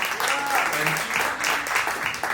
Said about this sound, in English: Big round of applause for Michelle Abbs